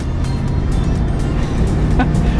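A car pulls hard off a roundabout on an Irish road trip of supercars and classics, with a loud, steady engine roar under acceleration and road noise close by, no speech.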